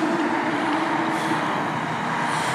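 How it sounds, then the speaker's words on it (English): Heavy trucks roll past at a concrete plant still working late at night, a steady, loud, close engine and road roar that holds throughout without pause. "There goes another one of the trucks right now."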